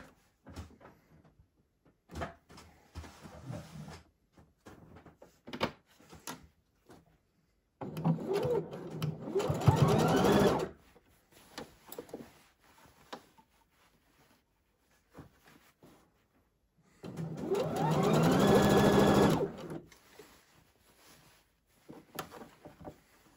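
Sewing machine stitching the armhole seam of a men's vest, running in two whirring bursts of a few seconds each, separated by quiet pauses with faint handling clicks and fabric movement.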